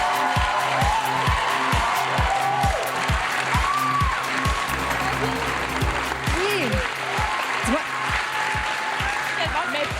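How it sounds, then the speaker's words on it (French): A television studio audience applauds as a contestant enters the set of a Quebec reality show, the clapping mixed with a loud rhythmic thumping music beat, and voices call out over the top. "On applaudit Geneviève."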